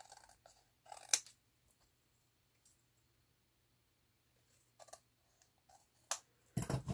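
Paper tags for a book page are trimmed with scissors in a quiet room, giving a few short, crisp snipping cuts at intervals with silence between.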